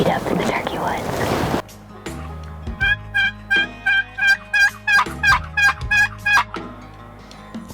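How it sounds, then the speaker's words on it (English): A wild turkey gobbles repeatedly in spring woods during an archery hunt, a rhythmic run of about a dozen clear, fairly close calls following a brief patch of whispered talk. "I finally heard my first gobble off to my right, which is super promising."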